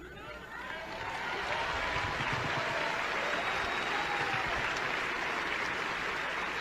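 An audience bursts into applause at a speech, a dense sustained clapping that swells in the first second and holds steady at moderate distance.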